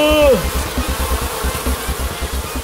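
A cartoon bee swarm drones in a steady, pulsing buzz that fills the scene, opening with a brief rising whistle-like tone before settling into repeated rhythmic throbs.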